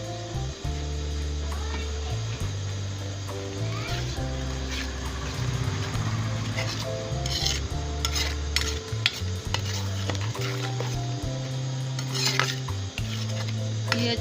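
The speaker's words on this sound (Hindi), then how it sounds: "ये टमाटर का पेस्ट शामिल कर रही हूँ।" Tomato paste frying in a pan for a chana dal and kaleji dish, with steady scraping stirs and a soft sizzle over a constant tonal hum.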